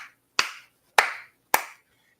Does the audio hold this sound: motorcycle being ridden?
no